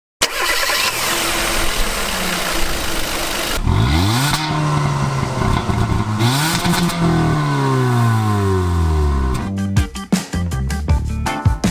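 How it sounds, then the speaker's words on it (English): The 2020 Hyundai Venue's 122-horsepower engine is heard up close with no talk, rising into repeated high revs with clear pitch sweeps, dropping back between climbs and ending in a few sharp bursts. "you have to rev this engine pretty high to get that power"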